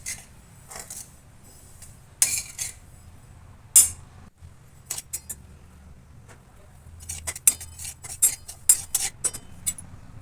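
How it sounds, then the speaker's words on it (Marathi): Lentils dry-roasting over a low flame while being stirred in a pan: sparse, sharp scrapes and clinks of a utensil against metal come in irregular bursts, growing busier toward the end, over a quiet low hum. "साधारण 5 ते 6 मिनटं आपण हिला मंद गॅसवर परतवून घेणार आहोत"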